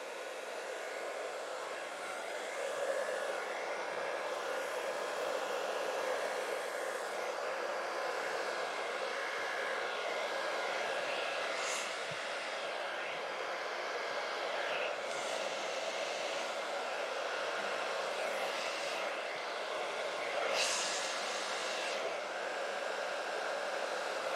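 A steady hiss of airflow from a blow dryer on the cold setting, used to push and dry alcohol ink across a 36x48 canvas, runs loud and close for the whole stretch with small shifts in tone.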